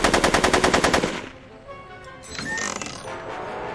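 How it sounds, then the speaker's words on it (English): Rapid gunfire from the video game Back to the Future: The Game, a loud burst of evenly spaced shots lasting about a second, followed by quieter mechanical rattling and clatter. "Are you shooting at me? Are you shooting at me?"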